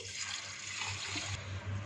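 Water sloshes and swirls steadily as rice and whole green mung dal are washed in water, a soft continuous splashing with no talk.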